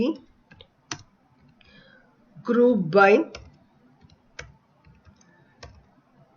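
Scattered, sharp keyboard key clicks tap out at an uneven pace, with a brief stretch of someone speaking in the middle.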